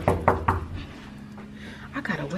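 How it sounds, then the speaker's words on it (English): Three quick knocks land on a house door close by, followed by a pause. A voice then speaks briefly near the end. "we finna go knock on my brother door"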